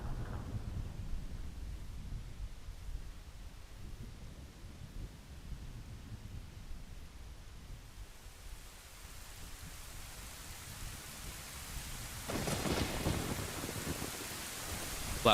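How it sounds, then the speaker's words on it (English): Thunderstorm in the game Ocarina of Time: steady rain hisses throughout, deep distant thunder rumbles beneath it, and a louder crack of thunder bursts near the end. "'Twas a dark and stormy night."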